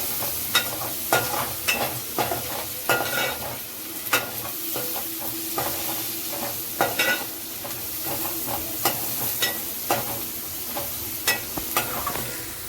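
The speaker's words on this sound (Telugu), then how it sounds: "సాల్ట్ అయితే వేసేసుకొని కలుపుకుందాము." Chopped onions with salt stirred in a frying pan for paneer veg fried rice: steady hiss of frying oil under repeated scraping of a spatula against the pan in irregular strokes, close and fairly loud, with no talking.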